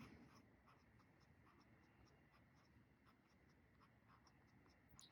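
A fountain pen with a medium nib scratches softly across paper while writing in Colorverse eXtreme Deep Field ink, a faint, continuous close-up rasp of small repeated strokes, no speech.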